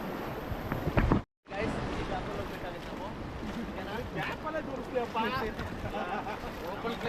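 River raft paddled on rapids, water rushing and splashing steadily with wind buffeting the microphone, a brief cut near the start, and voices calling out over the noise.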